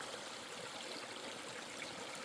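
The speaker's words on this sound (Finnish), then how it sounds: "niin on tämmönen puro, missä saa hyvin vettä" A small Finnish wilderness stream near Nuorttijoki in Kemihaara flows steadily, a dense, even rush of trickling water close to the listener with no voices.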